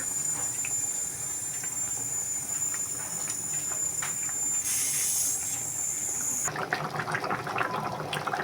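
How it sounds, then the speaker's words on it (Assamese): Chicken curry with banana flower, coriander and black pepper boils in a pot, a steady bubbling hiss throughout, with a sharper burst of sizzling near the end. "বৰ ধুনীয়াকৈ উতল আহিছে"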